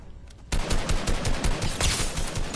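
Rapid automatic gunfire from a minigun in an online shooter game, a dense, loud, sustained burst of shots that begins abruptly and keeps going to the end.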